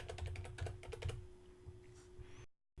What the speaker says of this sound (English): So I'll type WordPress.